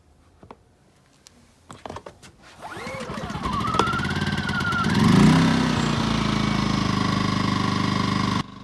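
A dual fuel generator engine starts after a few clicks and pulls, then settles into a loud, steady running drone that holds unbroken to the end.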